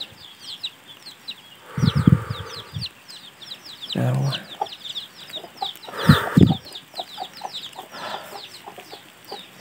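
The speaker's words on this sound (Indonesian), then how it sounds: "Wah, ayamnya banyak sekali ya." Chickens cluck around a forest farm near a papaya tree and cattle, with a quick run of repeated clucks and bursts of louder calls over a steady backdrop of high chirping insects or birds.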